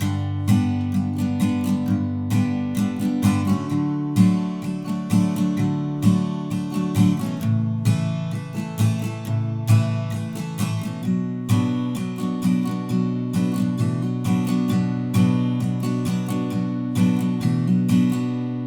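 Strummed acoustic guitar chords ring out steadily at a moderate tempo, full and close, with no voices over the music.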